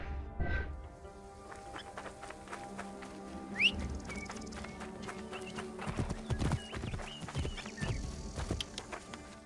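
Horse hooves clip-clop steadily at a walking pace in Assassin's Creed Origins near the Giza pyramids, with a brief whinny early on and a whistle-like call, set over a faint ambient game soundscape.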